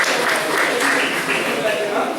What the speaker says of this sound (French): On peut l'applaudir parce que c'est pas facile à faire.